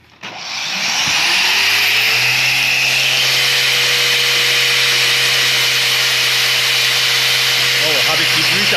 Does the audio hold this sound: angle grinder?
yes